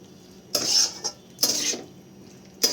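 A utensil stirs fried broccoli into spices in a pan, three short scraping bursts close up, with quiet gaps between them and no voices.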